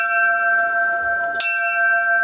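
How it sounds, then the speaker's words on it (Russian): A school bell called Blagovest is struck once at a last-bell graduation ceremony at a Cossack school in Sochi. The bell rings out loud and sustained, and a fresh strike renews the bright metallic tone partway through. "По традиции в 10-й школе забили и в школьный колокол «Благовест»."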